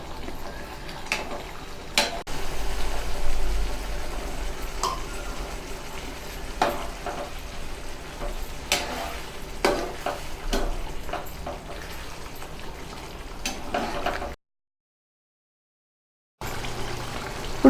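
Mushroom masala simmers in a pan after water is added, giving a soft bubbling sizzle with occasional spoon clicks and stirring, close and moderate in level, with a short silent gap near the end.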